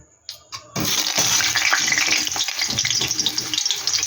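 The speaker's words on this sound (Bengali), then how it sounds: "প্রথমে আমি আলুটা একটু ভেজে নিচ্ছি।" Parboiled potatoes dropped into hot oil in a pan, a few soft clatters followed by a sudden, loud, steady sizzle and crackle close up.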